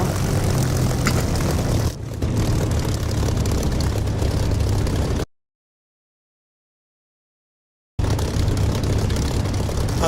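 A Spitfire's piston engine drones steadily on the ground before takeoff in the DCS flight simulator. It holds loud and close for about five seconds, then drops to silence and returns at the same level.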